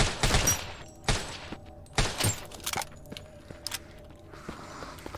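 Gunfire in the zombie shooter Deathly Stillness: several sharp, close single shots spaced irregularly, each followed by fainter thuds and impacts, with quieter background between them.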